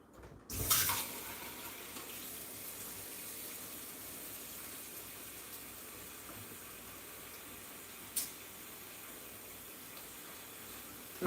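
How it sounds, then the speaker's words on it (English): Tap water runs steadily into a container at a kitchen sink, a constant close hiss of flow lasting several seconds, with a brief clunk near the start and another partway through. "first we're going to fill it up with water"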